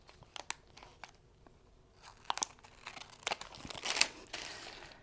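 Scissors snip and crunch through perforated plastic diamond painting packaging, a run of irregular close cuts and crinkles that grows busier and louder toward the end.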